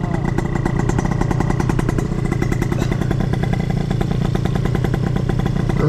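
A motor vehicle during a race between a scooter and a Mercedes G-Class over a quarter mile, heard as a loud, close, continuous engine drone with a fast, even pulsing throb.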